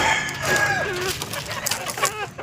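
Chickens and roosters offered for sale at a pet and poultry shop in Kumbakonam, with a rooster crowing and hens clucking close by in a busy yard.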